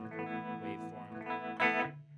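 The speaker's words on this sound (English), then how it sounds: "It has a waveform control. That's more of a square wave. This is a softer clipping" An electric guitar plays sustained chords through a distortion pedal set to a soft-clipping waveform, giving a warm, slightly fuzzy, gently clipped overdrive tone, with one brighter strummed accent near the end.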